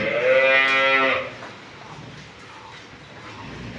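A young double-bodied dairy cow in her first lactation, about two teeth in age, lets out a single moo that lasts about a second, then trails off into steady background noise on a busy farm.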